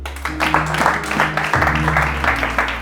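A church congregation claps and applauds for the Lord during a sermon, a steady, dense round of clapping with voices and music under it.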